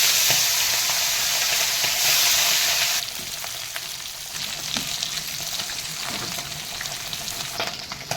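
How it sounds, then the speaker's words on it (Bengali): Singhi fish fry in smoking-hot oil, opening with a loud, dense sizzle that eases after a few seconds into a softer, crackling hiss with scattered pops. "তেল আমার এই গরম হয়ে গেছে পুরো ধুঁয়ো বেরোচ্ছে মাছগুলো এক এক করে দিয়ে"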